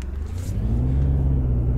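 A learner driver's car engine revs up as gas is applied in reverse gear, a low close rumble that rises in pitch and loudness and then holds steady, with no speech.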